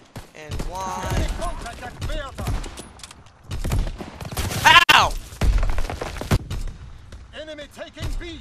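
Bursts of rifle and automatic gunfire crack in a World War II shooter video game, scattered sharp shots and thumps around someone talking over them.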